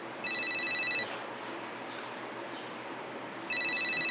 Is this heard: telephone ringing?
yes